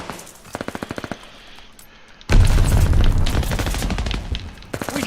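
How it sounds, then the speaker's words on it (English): A bomb blast in Call of Duty: Vanguard gameplay lands as a sudden loud, deep boom partway through, sustaining a heavy rumble after rapid gunfire bursts, with more quick shots returning at the end. "We dropped the bomb."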